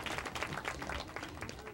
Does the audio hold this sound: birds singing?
no